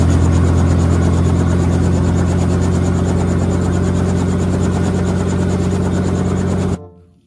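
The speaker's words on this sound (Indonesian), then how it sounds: "ada helikopter" A toy helicopter whirs with a steady, loud, droning buzz that holds unchanged for several seconds before cutting off abruptly.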